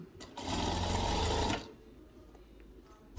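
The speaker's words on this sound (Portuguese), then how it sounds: "Vamos aqui costurar a partezinha de baixo, que daí vai prender o passa-fita no tecido" A sewing machine runs in one quick, close burst of about a second, stitching the bottom edge of a fabric dish towel, then stops, leaving quiet handling noise.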